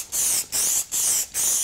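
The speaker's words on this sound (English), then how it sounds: "You can spray Q30 straight onto the" Four short bursts of Q30 protective film spray onto a circuit board, each a steady hiss lasting about a third of a second, close and alone with brief gaps between.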